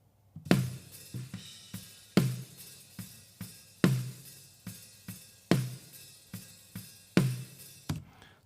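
A dry snare drum with no reverb is struck alone in an uneven groove of sharp, close hits, some loud accents among softer ghost notes, each decaying quickly.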